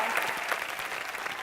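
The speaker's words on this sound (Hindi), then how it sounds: "तालियां।" Studio audience applause on a Hindi television comedy show: dense, steady clapping from a packed crowd, fairly soft and continuous for a moment with no break.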